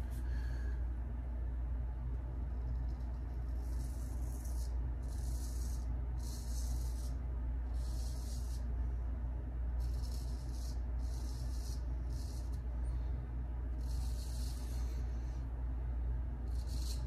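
A razor shaves through hairs over Barbershop shaving soap from Stirling Soap Company, giving faint, crisp scraping strokes in a steady series of short bursts over a low background rumble.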